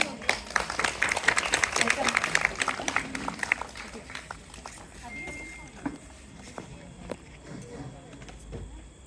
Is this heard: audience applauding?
yes